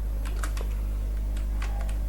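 Quick, light keystrokes on a computer keyboard, a short burst of close clicks over a steady low hum, with no talking.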